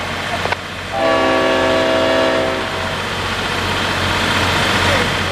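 A train's horn sounds a steady chord for about two seconds over a constant low engine rumble as the train comes to a stop.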